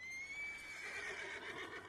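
A horse in Red Dead Redemption 2 gives one long, close whinny that wavers in pitch, heard clearly over faint outdoor game ambience.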